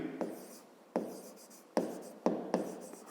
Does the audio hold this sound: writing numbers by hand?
yes